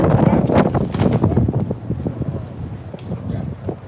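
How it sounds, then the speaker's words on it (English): Steady wind buffeting a microphone outdoors, a rough low rumble with gusty thumps throughout and a faint high whine near the start. "Windy as hell out here, boy."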